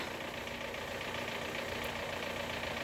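A car engine with a fully dead battery failing to start in a cold outdoor setting by frozen water, heard as a steady dull droning rumble that never catches, continuous and fairly loud, with no talk.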